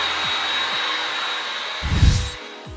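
A heat gun blows a steady broadband hiss while warming vinyl wrap on a BMW M235i F22 grille, with a brief louder thump and rustle near the end as the material is worked.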